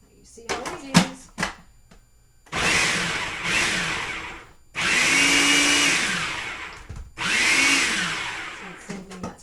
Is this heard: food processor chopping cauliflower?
yes